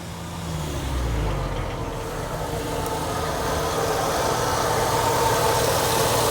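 Steady, droning engine of an Australian Ford running at constant cruising revs, a loud continuous rumble from inside the car with no speech.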